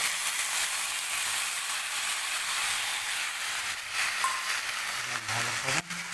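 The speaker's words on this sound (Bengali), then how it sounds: "মশলাটাকে কষিয়ে নেব।" Ground spice paste of cumin, coriander, onion, garlic and chilli fries in a pan, giving a steady broad sizzling hiss close by, with a few faint clatters toward the end and no talking.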